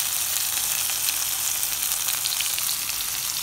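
Onion pieces, green chilli pieces and eight garlic cloves fry in tempering oil for thota kura pappu, giving a steady, bright, crackling sizzle with no pauses.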